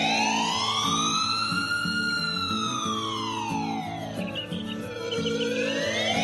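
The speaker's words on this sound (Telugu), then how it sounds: "అంతలో అంబులెన్స్ అక్కడికి వస్తుంది." An ambulance siren arrives, wailing in slow rising and falling sweeps, loud and close, over rhythmic background music.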